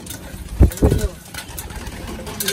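Pigeons coo in a loft, two or three low cooing calls up close near the start, then quieter background rustle.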